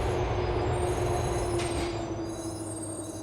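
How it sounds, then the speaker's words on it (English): A video game train arriving at Vespucci Circus Station in Liberty City rumbles along with a steady mechanical hum and a sustained tonal whine, and a brief high squeal rises partway through, no voices present. "The train is approaching Vespucci Circus Station."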